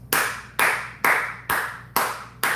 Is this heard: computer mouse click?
no